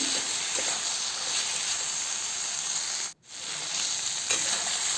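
Bitter gourd slices fry in a pan on a low flame, giving a steady close hiss and sizzle that briefly drops out near the middle before resuming, with no talking.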